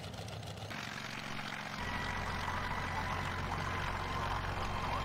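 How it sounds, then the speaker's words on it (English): A helicopter in the Farming Simulator 17 video game, on a Cass County, Missouri map, gives a steady droning engine and rotor hum that grows louder and fuller partway through, continuous and without talk. "So I'm going to jump in the helicopter."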